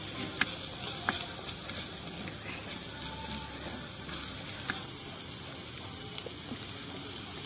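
Sliced onion and green chilies sizzle and fry in a hot pan, a steady bright crackling hiss with small pops and occasional stirring scrapes, close and continuous with no speech.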